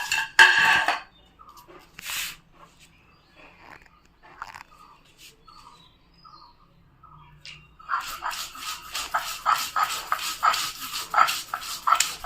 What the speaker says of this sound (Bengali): এখন নারকেল কোড়াটা বেটে নেব।